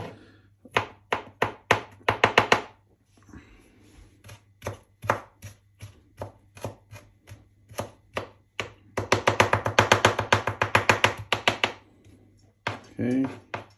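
A knife chops garlic and ginger by hand, loud rapid bursts of close, crisp blade strikes on a board, broken by short pauses, with a brief voice near the end.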